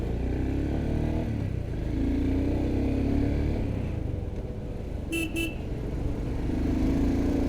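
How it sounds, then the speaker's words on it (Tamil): Royal Enfield Scram 440 motorcycle horn sounding two short, mild beeps over the steady idle and road rumble of the bike. "ஹார்ன் வந்து பார்த்திங்கன்னா கொஞ்சம் மைல்டராக தான் இருக்குது"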